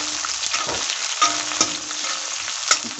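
Onions fry in a hot pan with a steady, close sizzle, with occasional sharper crackles and pops and no talking.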